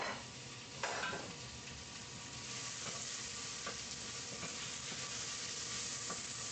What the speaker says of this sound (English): So you have your onion, finely chopped, sliced, and you add it